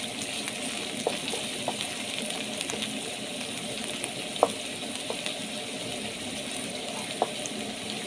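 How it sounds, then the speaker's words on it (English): Onions sizzle steadily in a pan for a beef liver wet fry, a soft continuous frying hiss with occasional small pops and stirring clicks, close and moderately quiet. "So I'm going to fry my onions until they are golden brown."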